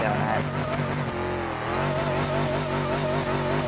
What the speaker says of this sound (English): A little celebratory donut, or trying to do some donuts